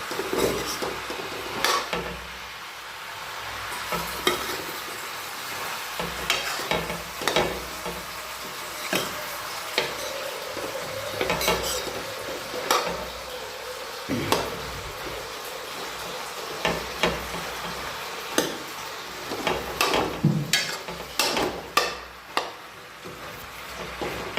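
A tadka tempering for a vegetable dish sizzles in a pan, with a moderate frying hiss broken by repeated clinks and scrapes of a stirring utensil against the pan, and no voices.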